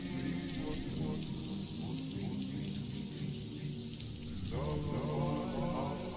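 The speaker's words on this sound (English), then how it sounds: "It's that rainy sound again." Steady rain mixed with crackling static hisses throughout an album track, with low musical tones beneath and a shift partway through.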